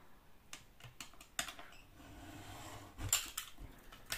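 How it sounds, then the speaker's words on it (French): A utility knife is drawn along a metal ruler while making a recycled-material desk organiser: a few sharp clicks and taps, then a steady scraping cut, with more brief knocks near the end; quiet and close, with no talking. "je prends mon cutter et ma règle en fer"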